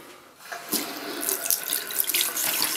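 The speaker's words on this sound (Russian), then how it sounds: "Водичку включаем." Water pours from a tap into a sink while a child's teeth are rinsed, a steady close splashing rush that starts after a brief quiet moment and continues throughout.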